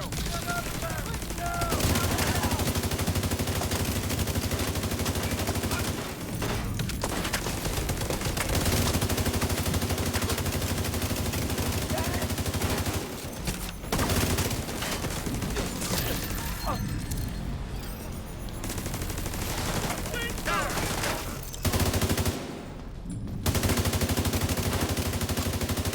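Long rattling bursts of automatic gunfire in the video game The Division 2, sustained and loud with brief pauses, under occasional voices.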